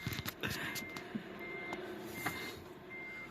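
Steady electronic reversing beeps from a vehicle backing into a parking space, repeated tones over a low engine rumble, fairly distant and alone without talk.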